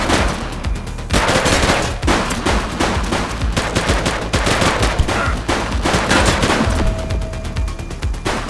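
Sustained police gunfire in The Precinct video game, dense rapid bursts of shots crackling loudly and almost continuously for several seconds, with brief pauses between volleys.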